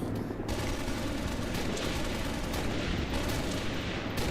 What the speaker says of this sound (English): They're shooting at something else that's not me.